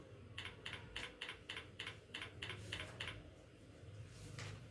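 Fingers type on a computer keyboard in a quick, even run of clicking keystrokes, then pause before a single final key press, close and fairly quiet.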